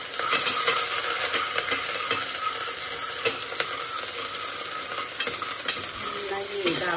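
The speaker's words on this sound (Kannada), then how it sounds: "ಇವಾಗ ಎಣ್ಣೆ ಕಾದ್ಮೇಲೆ ಸ್ವಲ್ಪ ಈರುಳ್ಳಿ, ಒಂದು ಇಡೀ ಹಚ್ಚಿ ಈರುಳ್ಳಿ" Onions sizzle steadily in hot oil while being stirred, with close, continuous frying hiss and scattered scraping strokes, cooked as a base for chicken biryani.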